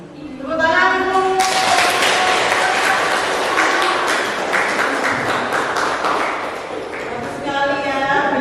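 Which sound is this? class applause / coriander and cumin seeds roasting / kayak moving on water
class applause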